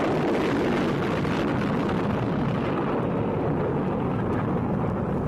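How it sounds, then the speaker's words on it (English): A rocket lifting off in a children's story, a loud continuous roaring rumble that holds steady throughout without a break. "Rip waved goodbye as the children went into the rocket and it took off."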